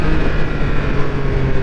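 Triumph Speed Triple RS 1200 motorcycle engine droning steadily and close as the throttle is cut, a continuous low rumble with no talk.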